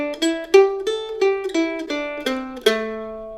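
Clean guitar picks a blues scale pattern, about eight distinct single notes plucked one after another in an even rhythm, each ringing briefly and close up, with no talking.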